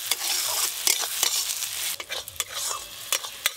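Onion and tomato masala frying for a fish curry, a steady bright sizzle under repeated sharp scrapes and clacks of a spatula stirring in the pan, close and without talk.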